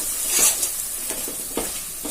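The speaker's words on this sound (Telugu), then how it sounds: "చట్నీ వేసుకున్న తర్వాత బాగా ఆపకుండా కలపాలి లేదంటే కారం వేసాం కదా మాడిపోతుంది" Curry leaf chutney with chili stirred into hot tempering oil, a sharp hiss at first, then rhythmic scraping strokes every half second over a continuous close sizzle.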